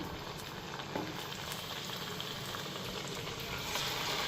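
Slices of taro and pumpkin sizzle in hot oil with a steady, close, bubbling fry hiss that swells slightly toward the end; no voices are heard.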